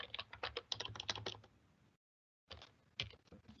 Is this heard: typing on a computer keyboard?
yes